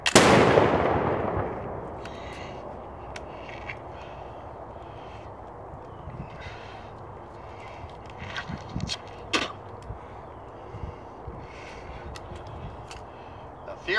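A single loud black-powder blast from a Revolutionary War reenactor's musket, sharp at the start and fading into a long echoing decay, followed by quiet outdoor ambience with faint scattered knocks.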